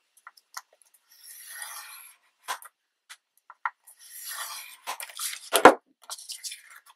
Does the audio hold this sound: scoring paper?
yes